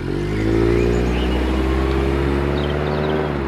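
Car engine running steadily with a low droning hum and a slight rise in revs, close and continuous with no voices.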